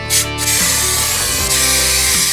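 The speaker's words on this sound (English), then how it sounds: "All right, so let's try this spray and see how it does." 3M headliner spray adhesive hisses steadily from an aerosol can onto motorcycle seat material, a loud, close, continuous spray broken by brief pauses.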